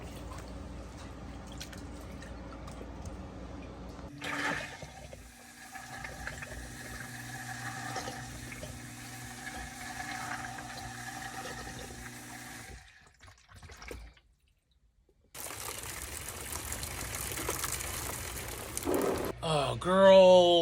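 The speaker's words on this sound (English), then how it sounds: "It's like there's like a gush of water all of a sudden." Water rushes and gushes in sudden bursts, with splashing and dripping like a flush or a tap running, stopping and starting again through the clip, loud and close.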